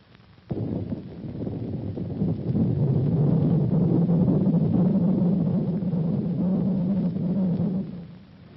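An experimental X-band radar's audio return from a running man, heard as a steady, close, rumbling buzz with a rhythmic fluttering texture that starts abruptly and holds for several seconds before cutting off.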